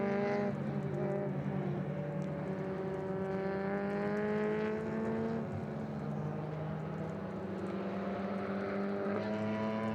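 A BMW E92 M3 race car lapping a racetrack during a warm-up lap, its engine note sweeping through clear rising and falling harmonics as it passes, moderately distant and fairly quiet with no voices.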